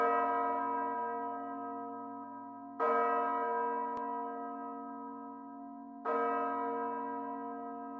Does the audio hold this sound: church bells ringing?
yes